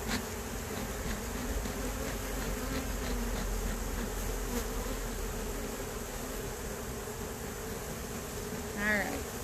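Agitated honey bees swarm around an opened hive during an inspection for hive beetles, a dense, steady buzzing close by that fills the whole stretch with only slight swells.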